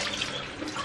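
A banana is rinsed under running water, a continuous splashing stream at close range with no talk.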